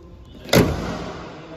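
Kia Seltos HTK diesel engine is switched off: a sudden loud clunk and shudder as the engine cuts, then a fading low rumble and quiet cabin hum.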